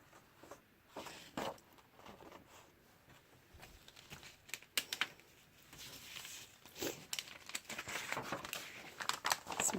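Sheets of journal paper from a steampunk grunge journal kit crinkle and rustle as they are handled, in irregular bursts of crumpling that grow busier toward the end, close and fairly quiet with no talking.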